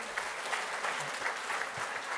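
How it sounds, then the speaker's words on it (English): Audience applause fills a symposium hall, steady dense clapping sustained for a couple of seconds at moderate level with no voices over it. "Round of applause for you all"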